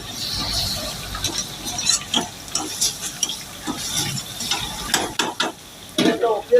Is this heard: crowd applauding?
no